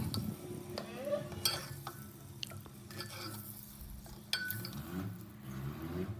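Egg pieces being stirred and fried in oil in a pressure cooker for egg biryani, a soft steady sizzle with scraping stirs and occasional utensil clinks against the metal pot, close by.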